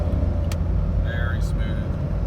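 A 20-year-old Jeep Cherokee Sport XJ with 34k miles under hard acceleration fills the cabin with a loud, steady low engine and road roar, with a brief voice over it.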